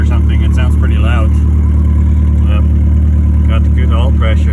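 A Mercedes 240D W123 diesel runs loud and rough at close range, a dense steady clatter with a harsh exhaust note as if the pipe is loose, while someone talks over it.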